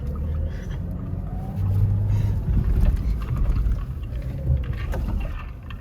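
A Jeep rumbles low over the sand at Ocotillo Wells, its engine surging and easing across several seconds, close and steady, with no talk.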